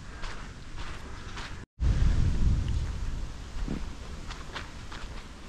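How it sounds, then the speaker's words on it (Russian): Rain begins outdoors on a town walk in Kronshtadt, with a steady hiss of rainfall and a heavy, booming rumble of thunder that swells after a brief dropout and then rolls on under the rain. "И уже начинается дождь"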